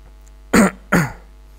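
Two short, sharp coughs from one person, the second following a moment after the first, loud and close against a quiet room with no other talk.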